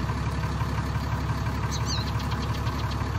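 Ford truck with a swapped-in Cummins diesel engine idling, a loud, steady, low knocking rumble close by, with a brief faint chirp partway through.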